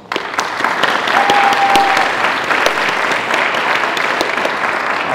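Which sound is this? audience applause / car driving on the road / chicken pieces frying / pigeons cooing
audience applause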